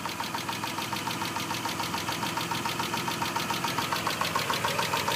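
A 2000 Mitsubishi Eclipse with a 3.0 liter engine running at a steady idle, an even, rhythmic mechanical thrum with a light ticking pulse, moderately close and unaccompanied.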